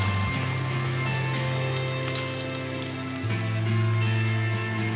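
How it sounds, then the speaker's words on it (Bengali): An egg omelette sizzles in white oil in a wok, a steady, close crackle with droning tonal hum underneath and no talk. "কড়াইতে সাদা তেল দিয়ে ডিমের ওলমাটা করে নেব"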